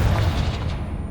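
A Confringo fire-blast spell explodes in Hogwarts Legacy with one heavy, close, booming roar that fills the whole moment and rumbles deep throughout.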